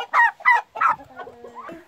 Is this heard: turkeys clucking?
yes